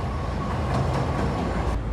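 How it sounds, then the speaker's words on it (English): A train passes on a rail line, heard as a steady, fairly loud low rumble with a continuous wash of wheel and car noise throughout, no voices. "Train again."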